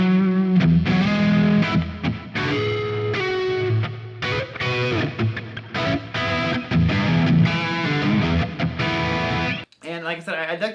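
Electric guitar through a Duncan Antiquity neck pickup with light distortion, playing warm, gooey sustained chords and riffs up close. A brief gap near the end leads into a thinner strummed phrase.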